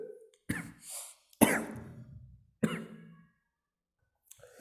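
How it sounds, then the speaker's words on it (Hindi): A man coughs in several harsh bursts indoors during a spoken Hindi botany lesson, each burst loud and close with short breathy gaps between, then silence. "कि थोड़ी सी खांसी आ गई थी"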